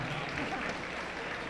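Gym crowd at a girls' high school basketball semifinal between Redbank Valley and Clarion Area, applauding after officials are introduced; a soft, steady wash of clapping heard from a distance, fairly quiet throughout.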